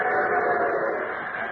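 A steady rushing, rumbling train effect on a vintage radio railroad program, loud and continuous with a narrow, broadcast-limited tone and no clear whistle.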